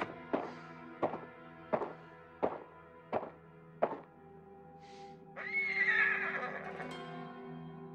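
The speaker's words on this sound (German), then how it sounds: "Miko ist mein Pferd." A horse whinnies in the video game Ghost of Tsushima after six evenly spaced hollow thunks, the neigh rising and trailing off loudly near the end, with no talking.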